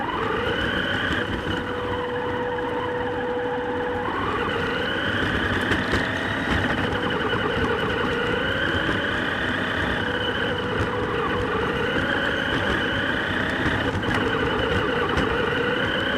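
A Double E E101 Defender 1/8-scale RC crawler runs its electric motor at fast speed, producing a steady, loud whine with a slightly rising and falling pitch that continues throughout.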